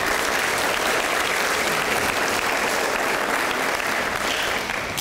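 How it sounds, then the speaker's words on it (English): A graduation ceremony audience applauds its board members, a dense, sustained burst of many hands clapping at once, steady and loud throughout with no voices rising above it. "Let's give them a big hand."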